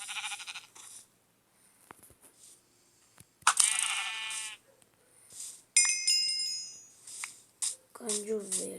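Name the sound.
sheep bleating in a video game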